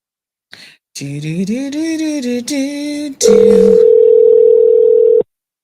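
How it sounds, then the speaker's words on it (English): A telephone line tone in a call, starting with a short burst, then a rising and falling warbling tone with harmonics, then a steady loud continuous tone lasting about two seconds, with no voices. "Answer your phone"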